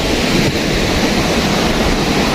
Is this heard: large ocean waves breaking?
yes